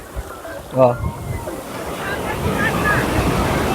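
Sea waves washing onto the shore near Bhavani temple at Katpar, Mahuva, a steady broad surf roar under gusting wind noise, with a brief voice near the start.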